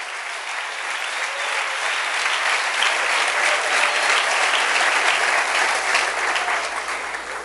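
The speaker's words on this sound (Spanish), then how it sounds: "denle un aplauso fuerte al rey" A church congregation breaks into strong, sustained applause during a Spanish-language sermon, a dense wash of clapping that swells and holds steady throughout.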